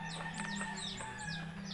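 Chickens that have been fed vitamins cluck and chirp faintly in quick, overlapping calls above a low steady hum.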